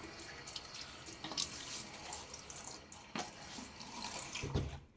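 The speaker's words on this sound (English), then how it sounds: "get this brush in the water one last time. Get some water on my face." Tap water runs at a sink to wet a shaving brush and splash the face, a continuous close splashing flow with a few louder surges.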